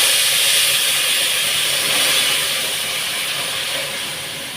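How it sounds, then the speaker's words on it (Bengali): Dal poured into hot oil with cumin tempering in a kadai, giving a loud, steady broadband sizzle and hiss that fades slightly toward the end, with no talking. "এখন আমি ডালটা ছেড়ে দেবো ডালটা দিয়ে দিলাম"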